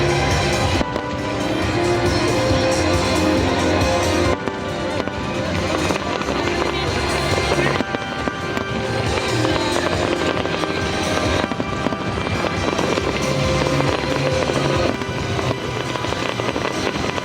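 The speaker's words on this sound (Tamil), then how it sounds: "என் கூட இந்த ஃபயர் ஒர்க்ஸை பாருங்களேன்." New Year fireworks over Dubai, a dense continuous barrage of bursts and crackles from a distance, steady and loud for the whole stretch, with crowd noise and voices mixed underneath.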